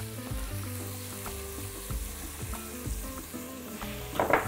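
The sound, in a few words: chicken hearts and vegetables frying in a pan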